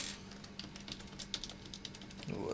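Keycaps pulled one after another off an HHKB keyboard, making a quick run of small, close plastic clicks and taps that ends in a brief rustle.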